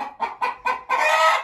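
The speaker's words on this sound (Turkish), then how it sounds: "burası çok horoz boğurduğu için dışarı çıktım" Village chickens and roosters in a coop, a close run of four quick clucks followed by a longer drawn-out squawk.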